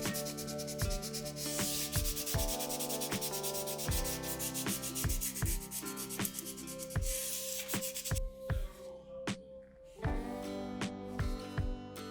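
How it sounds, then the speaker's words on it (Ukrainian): Steady rhythmic rubbing and scraping of wet sandpaper back and forth on a 1:144 scale Boeing 757-200 model airplane, close and continuous, with regular strokes throughout. "По мірі зменшення зернистості шліфувальної бумаги додаю воду."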